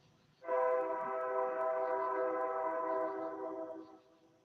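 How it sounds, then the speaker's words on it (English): A train passes near a railway bridge, its horn sounding one loud, sustained, chord-like blast lasting about three seconds before cutting off, close by in a quiet outdoor setting. "We hear that train really good."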